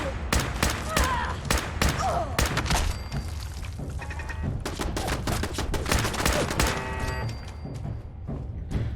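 Rapid bursts of automated turret gunfire in Fallout 4, dense and loud, repeating in quick volleys over game music and ambient noise throughout.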